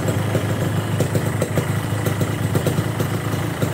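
Motorcycle fitted with a swapped aftermarket exhaust, its engine running steadily with a rough, pulsing throb close by and no voices.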